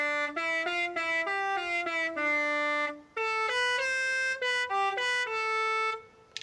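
A melodic car horn in Forza Horizon 5 plays a clean, bright electronic tune of held notes in two phrases, loud and close with no talking.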